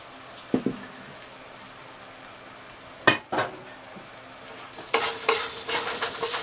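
Garlic roasts in a pan with a quiet background sizzle, punctuated by a few sharp stirring scrapes, before the frying swells louder near the end.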